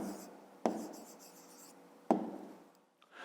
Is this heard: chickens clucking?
no